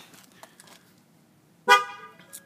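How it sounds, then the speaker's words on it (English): A single short, loud honk from a Ford F150 horn sounds during tire pressure sensor training, sharp and close after quiet faint clicks, then a small trailing blip. "Honk, and when we turn the ignition off, if we get a double honk, it did not work."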